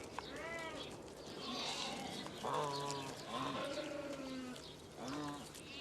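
Sheep and lambs bleat on an open steppe, several animals calling in overlapping, wavering cries at moderate distance, with no talk.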